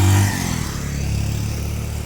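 A motorcycle engine idling and pulling away at the bike parking entry counter of Vadakara railway station, a close, loud low rumble that eases slightly and then holds steady without any speech.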